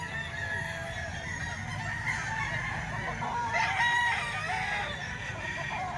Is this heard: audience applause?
no